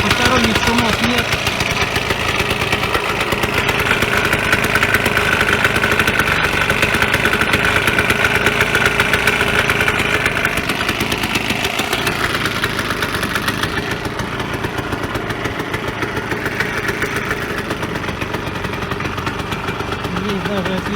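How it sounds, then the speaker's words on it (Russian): A Vyatka VP150M scooter engine runs steadily at idle just after its first start following restoration, a close, even, slightly rattly putter that continues throughout. "вот и первый запуск состоялся. Работает прекрасно, посторонних шумов нет."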